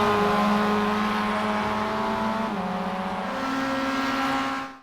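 A Mazda MX5 production car at full throttle in iRacing at Spa, its engine droning loud and steady with a brief dip and a shift to a higher note midway before it cuts off.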